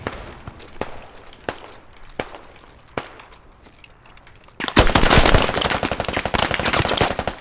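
Automatic machine gun fire in the military shooter Squad: a few spaced single shots and footsteps at first, then a loud sustained burst of rapid gunfire dominating the second half.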